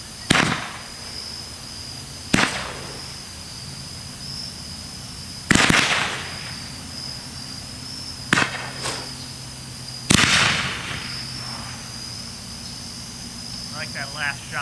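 Homemade tiger tail cakes and shells burst outdoors in five loud, sharp bangs spaced a few seconds apart, each trailing off, with faint crackling near the end.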